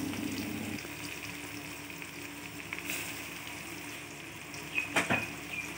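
Onions frying with tomatoes in a home pan for kurma, a steady low sizzle under a faint background hum, then a couple of clinks of a utensil against the pan near the end.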